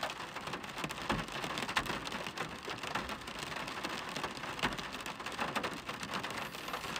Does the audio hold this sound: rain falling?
yes